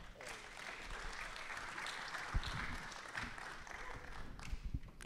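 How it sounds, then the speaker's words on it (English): Applause from an audience, a steady wash of clapping lasting several seconds at a moderate distance. "So if you guys could give a round of applause to Keshav and Bell."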